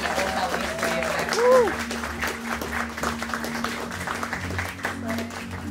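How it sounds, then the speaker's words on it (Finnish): Audience applause for the participants of a cosplay contest at Poniconi 2023, a steady crowd clapping that is masked by talk, with a brief tonal sweep partway through. "Vielä raikot aplodit kaikille osallistujille"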